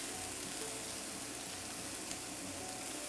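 Chicken rollatini sears in a hot pan, a steady close hiss of sizzling oil that stays even and unbroken, with no talking over it.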